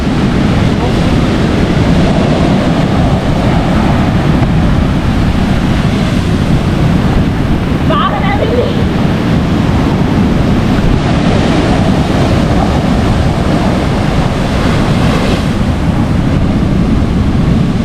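Large ocean waves at Hawke's Bay beach surge and crash against a seawall, producing a loud, continuous, rushing roar mixed with heavy wind buffeting close to the microphone.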